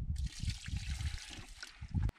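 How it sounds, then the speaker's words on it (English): Water poured into a coarse sand render mix, a close, brief trickling pour with gurgling low splashes, ending abruptly. "I'm going to add a bit of water, hopefully not too much"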